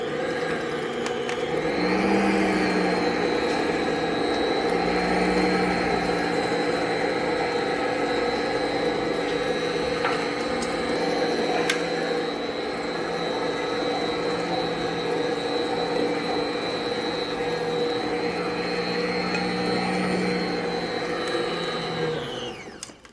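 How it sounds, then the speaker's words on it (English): Electric mixer whirring steadily while mixing chocolate chip cookie dough, a loud sustained motor hum with a high whine that starts up, runs continuously for around twenty seconds, then winds down. "So let me get my mixer going and we'll drop the sugar in."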